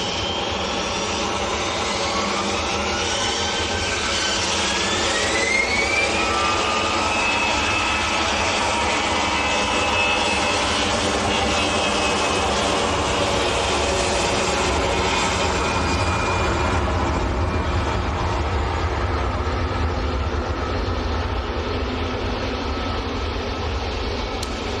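An EasyJet jet airliner roars at Manchester Airport, a loud sustained engine rumble with whining tones that rise and shift and then ease slightly toward the end.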